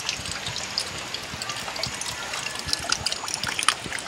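Steady rushing and trickling water fills the scene, a continuous close flow with small splashes and gurgles from a stream near tunnels in a mining area, no voices.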